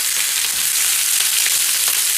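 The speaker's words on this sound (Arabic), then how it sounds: "هنشويها هنا، نعمل لها صدمه بس كده" Chicken drumsticks in their own fat sear in a hot pan with a dense, steady hiss and crackle. The sizzle is close and continuous, with no voices.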